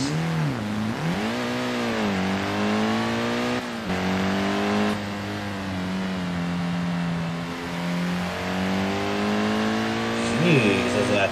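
A modded car in Assetto Corsa revs hard through the gears, its engine note climbing and dropping as it brakes and accelerates through corners, loud and close throughout.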